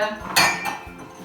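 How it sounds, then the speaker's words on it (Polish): Two whisky glasses set down on a hard surface, giving a bright glassy clink close up, a strong knock followed by a lighter second tap as they settle. "Stawiam sobie dwie szklanki, dodam jeszcze lodu"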